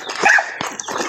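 A farm dog near its food lets out several short, sharp barks and yips at close range, loud and irregular, with brief gaps between them.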